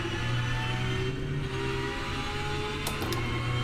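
A racing car's engine drones steadily at high revs in a sim racing game such as rFactor 2, RaceRoom or Automobilista 2, a continuous whining buzz with a brief higher blip near the end and no voices.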